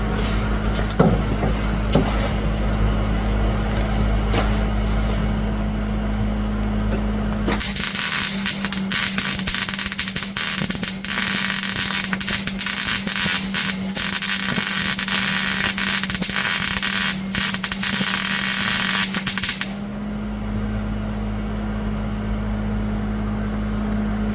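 A welder fills small drilled holes in a car's front floor above the subframe, giving a continuous loud crackling buzz of about twelve seconds between stretches of steady background hum.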